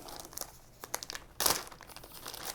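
Crinkly plastic Gibson goodie bag being opened during a guitar unboxing, giving scattered soft rustles that swell into a louder burst of crumpling crackle midway before settling back to faint crinkles, with no talking.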